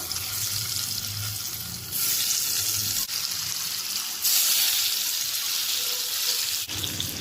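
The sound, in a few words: paneer pieces frying in a pan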